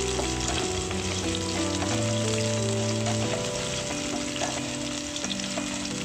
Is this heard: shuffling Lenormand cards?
no